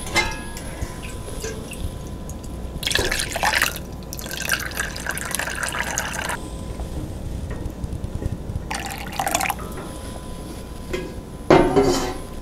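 Melted beeswax from rendered dirty comb drips and trickles through a straining cloth, giving faint irregular wet drips with a few louder splashy bursts and brief clinks of a pot, close by and with no voice over it.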